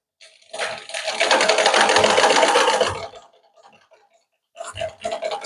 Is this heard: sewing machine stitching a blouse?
yes